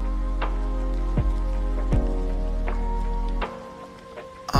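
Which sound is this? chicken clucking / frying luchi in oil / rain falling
rain falling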